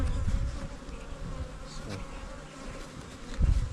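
Honey bees buzzing around a hive in a nuc yard in the mountains, a dense continuous hum close by with faint rustling and no voices.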